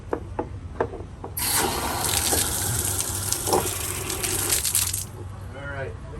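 Water gushes and splashes loudly for several seconds through an outdoor pond drain, a rushing, gurgling flow that then cuts off, with a few clicks and knocks before it.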